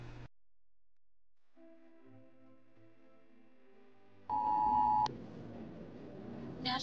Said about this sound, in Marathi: ब्रेकमध्ये पण असे मोबाईलवरती अलर्ट येत होते अशी इमर्जन्सीचे